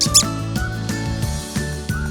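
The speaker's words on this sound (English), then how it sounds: "a soft meep like a mouse" A soft, high, mouse-like meep squeaks out as a short sound effect, repeating in quick little chirps over gentle, sustained musical tones.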